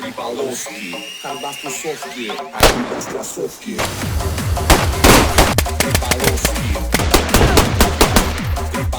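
Shotgun fire in the video game DayZ. After a few seconds of tonal, voice-like sound, loud rapid gunshots break out and continue as a dense, relentless volley to the end.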